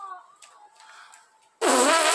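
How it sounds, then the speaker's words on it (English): A loud, close fart erupts suddenly after a quieter stretch of background noise and continues steadily as a sustained buzzing blast to the end. "I got fart real bad."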